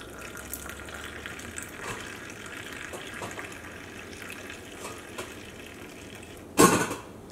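Milk pours in a steady stream and trickles for several seconds into a mixer jar for cappuccino, ending in a brief louder splash near the end; no one speaks.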